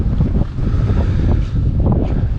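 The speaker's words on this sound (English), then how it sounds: "Yeah, the wind is definitely a bit crap." Wind noise buffets the microphone while riding a Triumph Bobber motorcycle, a steady, loud broadband rush with gusty swells throughout and no talking.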